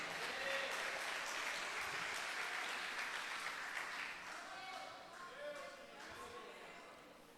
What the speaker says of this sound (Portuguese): Você pode dar uma salva de palmas para Jesus bem forte?